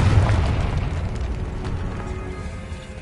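A Confringo fire spell explodes in Hogwarts Legacy, a deep rumbling boom that rolls on and slowly fades.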